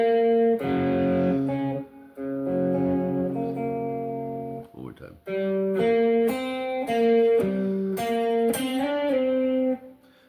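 An electric guitar lick from a song, played with a picked note followed by slides, in two short melodic phrases separated by a brief pause. A voice speaks briefly between them.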